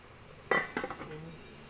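A single metallic clank of a lid set onto a pot of catfish, followed by a few quick rattles as it settles, close and fairly quiet.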